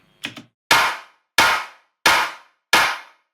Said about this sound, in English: And here is the clap layer.